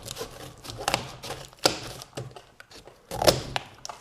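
Cheap discount-store scissors working through tough material, a series of separate sharp snips and crunching cuts spaced irregularly, close up with faint rustling between them.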